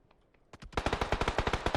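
Rapid automatic gunfire in a competitive Counter-Strike esports match, a few faint shots at first, then a dense, loud, steady burst of evenly spaced rounds, with no voices over it.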